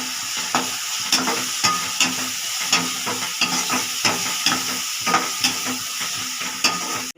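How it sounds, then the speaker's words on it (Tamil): Eggplant and vegetables sauté with turmeric and garlic in a pan for crab gravy, a steady sizzle broken by regular scraping strokes of a spoon stirring, close and without any voice. "மஞ்சத்தூள் 2 ஸ்பூன் போட்டு வதக்க வேண்டியதான்"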